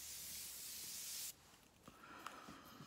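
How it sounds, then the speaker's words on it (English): Aerosol makeup setting spray releasing a fine mist, a steady close hiss lasting just over a second that cuts off sharply, followed by quiet faint handling clicks and rustles. "one thing that I absolutely love about this one is the mist on it, or is the spray. So it's an aerosol,"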